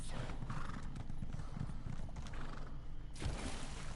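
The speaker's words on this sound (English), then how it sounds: "Come forth, horse." A summoned horse mount in The Elder Scrolls Online gallops with rapid, steady hoofbeats and lets out a whinny, the galloping continuing throughout at a moderate distance.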